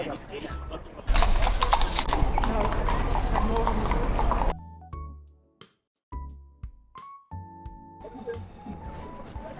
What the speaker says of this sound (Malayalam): അത് കുതിര പോകുന്ന സൗണ്ടുള്ളൂ.